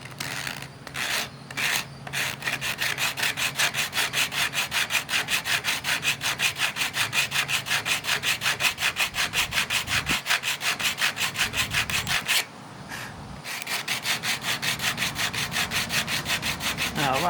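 Rapid, rhythmic back-and-forth rasping as an old 140-year-old wooden porch post is sanded by hand with a worn, coarse belt sander belt, loud and close, with a short pause partway through.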